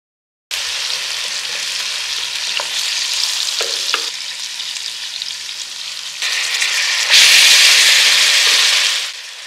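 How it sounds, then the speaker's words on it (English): Prepped vegetables sautéing in hot, nearly smoking oil for jerk pork, a loud steady sizzle with scraping stirs, swelling into a brighter, louder hiss near the end before easing off. "Saute these until they shrink and start to brown"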